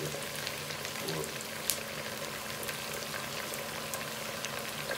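Chicken pieces fry in hot oil in a pan for a potato and chicken stew, giving a soft, continuous sizzle and crackle with faint pops, quiet and unbroken.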